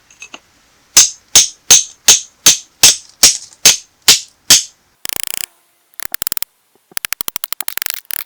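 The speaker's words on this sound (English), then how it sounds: "we'll try to get a hammer behind that, see if we can get the slab off" Ten sharp, evenly spaced hammer strikes ring out loudly on a rock slab holding an ammonite fossil, then bursts of rapid clicking and crackling noise follow in short clusters.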